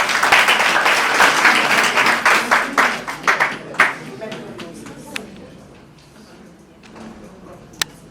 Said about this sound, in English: A round of applause for the second team.